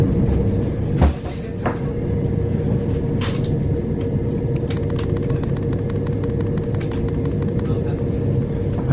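A train rolls steadily through Wembley Yard, a low continuous rumble with a few sharp clanks and rapid rail clicks toward the end.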